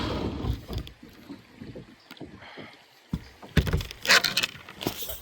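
Kayak paddling on floodwater: paddle strokes splash and slosh close by in uneven bursts, louder toward the end, with wind buffeting the microphone and no talk.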